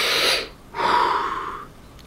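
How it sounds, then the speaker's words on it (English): A single deep breath, heard up close: a sharp inhale, a brief pause, then a longer, softer exhale fading away. "She took a deep breath"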